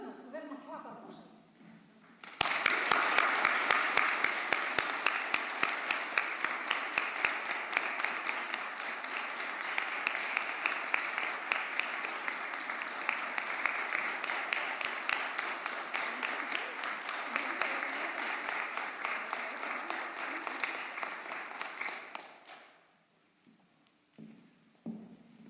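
A hall full of people at a 2021 graduation ceremony of Verkmenntaskóli Austurlands breaks into sustained, even applause for the graduates that lasts about twenty seconds before fading out, with faint talk before and after.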